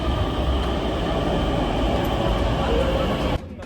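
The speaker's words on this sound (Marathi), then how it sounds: "मेट्रोत पहिल्यांदाच बसलोय" Steady, loud rumble of a Pune metro train running on rails, heard from inside the carriage, then cutting off sharply to a quieter hum near the end.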